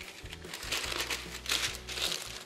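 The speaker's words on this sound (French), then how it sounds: "Je vais recouvrir le fond d'un papier cuisson." Parchment baking paper crinkles and crackles up close in a few bursts of handling while a tart crust is lined, with a low hum beneath.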